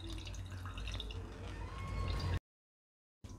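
Water drips from curd tied up in thin cloth to drain for saffron shrikhand, a faint, quiet trickle with soft drip sounds that stops abruptly, followed by silence and a brief return of low noise.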